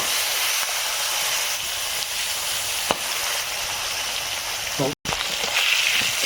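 Eggplant slices fry in a pan with a steady, dense sizzle and hiss that holds throughout, broken once by a brief dropout, with faint clinks over the top.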